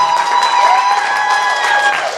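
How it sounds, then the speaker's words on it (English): Party guests at a club holiday party clap and cheer for the club host and staff, a steady wash of applause from a crowded room with a few sustained tones ringing through it. "Round of applause for Tom and his staff."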